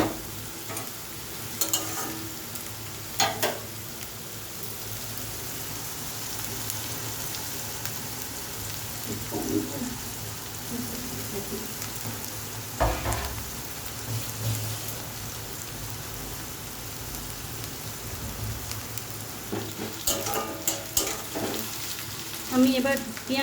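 Onions frying and being stirred in a pan for chicken curry, a steady close sizzle with occasional scraping stir sounds throughout, no voices.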